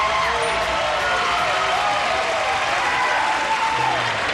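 A 1983 game show studio audience cheers and chants in a steady, loud, continuous roar of crowd noise and applause that fills the room.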